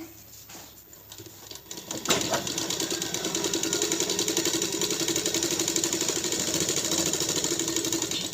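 A sewing machine stitches a blouse, starting after a quiet moment and then whirring in a fast, even mechanical rhythm that stays close and steady to the end.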